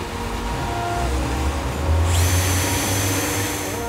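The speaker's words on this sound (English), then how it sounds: "we've got the cordless drill. We're gonna run a 5/16 drill bit. We've marked our spot, and we're gonna drill a hole." Cordless drill with a 5/16 bit boring a hole into the side step of a Toyota Hilux, a loud close motor whine that rises in pitch partway through and holds steady, with no talking.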